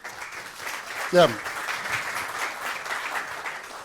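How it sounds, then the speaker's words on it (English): Audience applause for a presenter at a European patent and standards event, a steady wash of clapping that runs throughout. A short spoken word cuts in near the start. "A round of applause for Justus."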